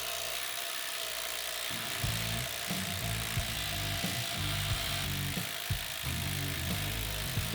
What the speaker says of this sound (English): The drill has had enough.